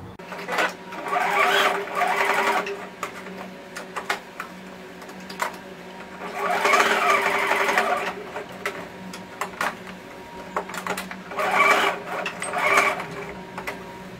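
A sewing machine stitches fabric for a fox-shaped baby comforter in three separate bursts of rapid whirring needle strokes, close and fairly loud, with quieter pauses between runs.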